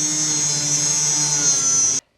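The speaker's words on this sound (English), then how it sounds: "out came the handy-dandy angle grinder" An angle grinder cuts through a lock on a metal barn, giving off a steady high-pitched whine that holds for about two seconds and then stops abruptly.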